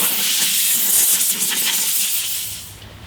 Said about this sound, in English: So I have an air compressor right here with a little blowing attachment.